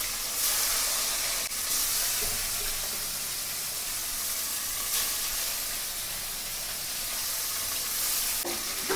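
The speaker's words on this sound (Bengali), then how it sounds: "ইলিশ মাছ অনেকে ভাজে না, কিন্তু আমি হালকা করে ভেজে নিচ্ছি" Hilsa fish lightly frying in a pan, giving a steady, close, continuous hiss and crackle of hot oil that holds at an even level throughout, with no talking.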